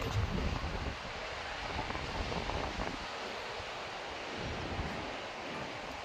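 Sea waves wash onto the shore as a steady, broadband roar mixed with wind noise on the microphone, fairly distant and unbroken, with no talking.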